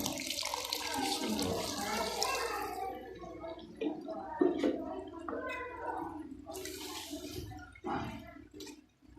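Water pours and gurgles into a pot of black chickpea curry, bubbling and splashing steadily before tapering off.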